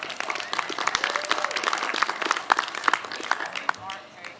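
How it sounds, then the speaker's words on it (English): An audience at an outdoor coalition rally applauds a speaker's introduction with dense, steady clapping throughout, close and loud, easing slightly near the end. "Give her a round of applause."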